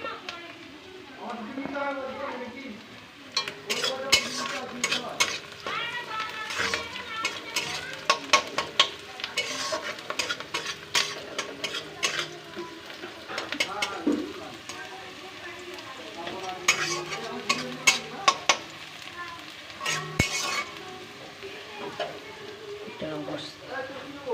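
Chopped onions frying in a pan with repeated stirring, a steady sizzle punctuated by scraping and clinking utensil strokes, with someone talking over much of it during home cooking.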